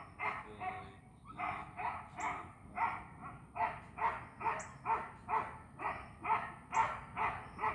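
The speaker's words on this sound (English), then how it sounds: "My dogs are going crazy out there." Dogs bark outside in a steady run of repeated, evenly spaced barks, moderately distant and fairly faint, continuing throughout with no speech.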